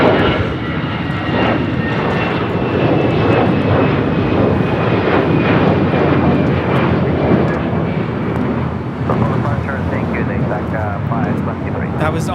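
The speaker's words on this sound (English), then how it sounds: "Avianca 523 taking off to San Salvador on an A320 in the Star Alliance livery" An Avianca Airbus A320 in Star Alliance livery taking off from LAX for San Salvador, a loud, steady jet engine roar with a high whine, continuous across the stretch and heard without talk.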